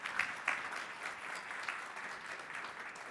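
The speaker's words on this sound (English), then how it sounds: "Let's give him a round of applause." Audience applause following a speaker's talk on digital twins combining AI and system simulation, a steady moderate clapping from a room of listeners with a few sharper claps standing out, no talking over it.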